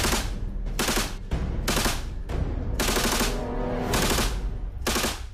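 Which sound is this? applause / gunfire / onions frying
gunfire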